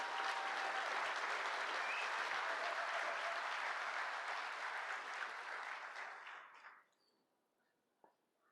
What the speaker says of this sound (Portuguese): Uma salva de palmas à segurança pública brasileira.